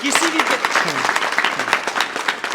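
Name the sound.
audience applause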